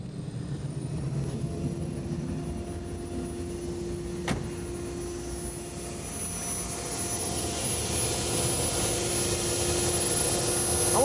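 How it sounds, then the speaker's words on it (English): Jay Leno's Chrysler Turbine Car starting its jet turbine engine: a thin high whine builds and climbs steadily, with a sharp click partway through, the rushing roar growing louder toward the end. "we're about ready to take it for a drive, but first you got to hear it start"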